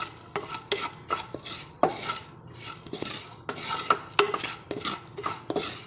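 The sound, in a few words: stirring and roasting spice powders in a clay pot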